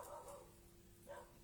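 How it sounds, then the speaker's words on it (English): A dog named Bella barks faintly in the distance, giving a couple of short, muffled barks separated by a pause. "She found a bird to bark at, probably."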